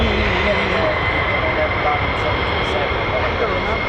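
Fighter jets of the 494th Fighter Squadron, the Panthers, at RAF Lakenheath roar as a loud, steady, broadband engine rumble that fills the whole stretch without pause.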